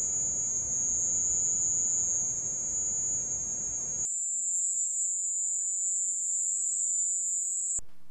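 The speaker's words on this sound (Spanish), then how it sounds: "este ruido común es muy parecido al ruido de una cigarra" Insect recorded in Cuba making a loud, continuous high-pitched cicada-like drone, first over low background noise and then almost alone, before cutting off abruptly.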